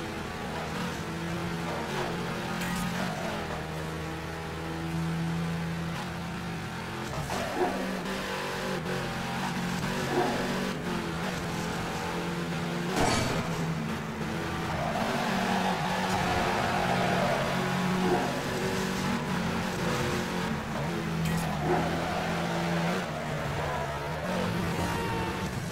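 Racing cars in Midnight Club 3 roar continuously with engine revs and drifting through the whole stretch, loud and steady with shifting pitch, no talk over it.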